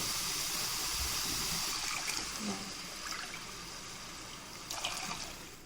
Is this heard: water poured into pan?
yes